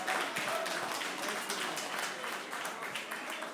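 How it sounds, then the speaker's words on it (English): Applause rises from the audience at an Africa Day session right after a funding pledge announcement, a steady continuous wash of clapping at moderate distance with no voices standing out above it. "A big round of applause."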